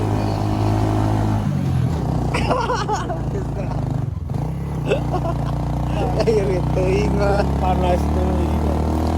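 A Honda Supra motorcycle climbs a steep hill, its engine droning and revving steadily throughout with carburetor tuned for economy, while someone talks over it.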